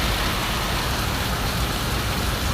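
Steady rain pours down under an overcast sky, a dense, even hiss with soft patter on surfaces, continuous and fairly loud with no voices.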